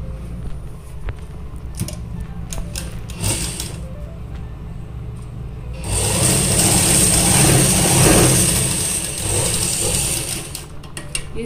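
A sewing machine stitches the centre seam of a kurta neckline, its mechanical clatter quieter at first, then louder and more continuous at close range in the second half.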